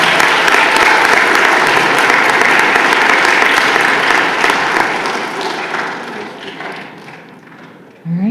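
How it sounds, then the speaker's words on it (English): Audience applause at a school spelling bee, a dense, steady burst of many hands clapping that stays loud for most of the stretch and then tapers off near the end. "Give these guys a round of applause."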